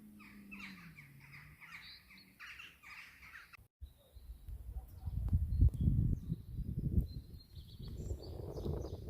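Birds of prey call at a cliff in the Luberon, repeated harsh cries carrying from a distance, then give way to close rustling and handling noise outdoors.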